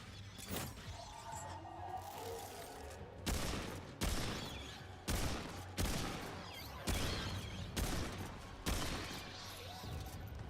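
Gunfire from a weapon in the Remnant 2 video game, a run of heavy repeated bursts landing roughly every second over a constant low game-music drone, close and loud with no talking.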